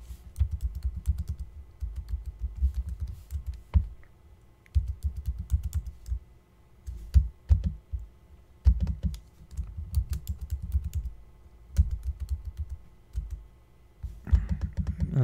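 A password is typed on a computer keyboard in close, rapid bursts of key clicks separated by short pauses, continuing throughout with a few louder keystrokes and no voices.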